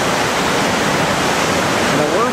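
A creek in Alaska, below a salmon hatchery, rushes steadily in a loud, dense, unbroken wash of flowing water, close by and without pauses.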